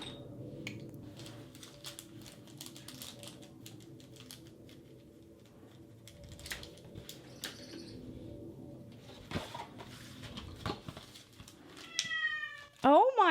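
An angry cat named Dietrich lets out a few loud, rising meows near the end, after a stretch of quiet room noise and faint soft sounds.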